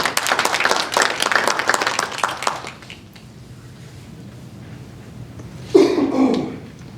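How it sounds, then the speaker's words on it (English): Audience applause at a university poetry day event for a prose second-place winner, a few seconds of lively clapping that fades into quiet, followed by a brief cough or throat clearing. "So give a round of applause to Gabe."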